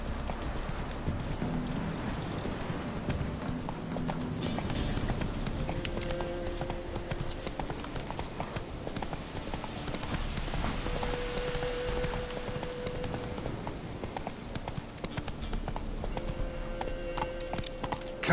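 Hooves of Roach, a horse in The Witcher 3 video game, clip-clop in a steady galloping rhythm, close and continuous throughout, over a layered game soundscape with occasional tonal notes.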